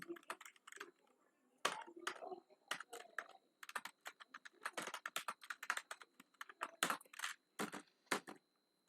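Quiet, close typing on a computer keyboard makes irregular clusters of crisp key clicks with short pauses between bursts, and a soft voice speaks now and then.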